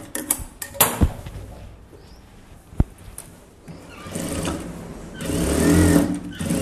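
A sewing machine stitches a chudithar top in bursts, with brief clicks and knocks early on and a louder, steadier run of stitching building near the end.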